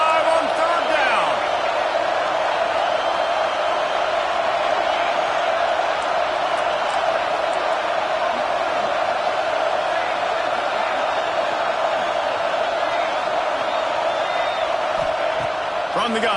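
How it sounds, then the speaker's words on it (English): Ohio State Buckeye football crowd roaring on third down in a packed stadium, a steady, dense wall of cheering and shouting that holds at full level throughout, with no break. "The Buckeye crowd alive on 3rd down."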